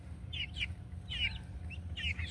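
Pullets give short, high clucks and chirps in a few brief bursts, fairly close, over a low background hum.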